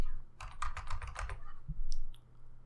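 A burst of rapid keystrokes on a computer keyboard while code is typed in, close and fairly loud, a dozen or so quick clicks in a dense run, then a few scattered taps.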